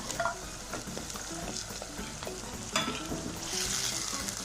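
Onion paste frying in a clay pot for fish curry: a steady, close sizzle with frequent scraping stirs and light clinks, and no talking.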